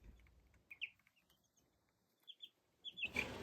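Several chickens and at least three roosters cluck in short, sparse bursts during evening chores, the calls fairly faint over a quiet background, ending in a louder rustling burst.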